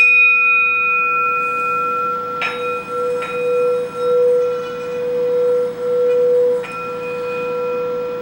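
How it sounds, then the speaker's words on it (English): A sand cast Tibetan singing bowl hums a steady, sustained tone with bright overtones, a few soft strikes adding fresh shimmers as the ringing carries on evenly and close. "So this is the sound of the singing bowl, just for your reference, of the sand cast bowl."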